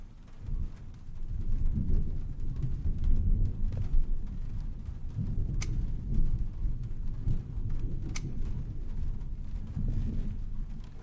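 Rain falls steadily outdoors in the video game Truberbrook while low thunder rumbles throughout, with a few faint sharp crackles over the dense wash.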